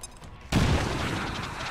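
Grenade detonation in XCOM 2: a quiet stretch broken at about half a second by a sudden, loud blast that holds as a dense, rumbling roar to the end.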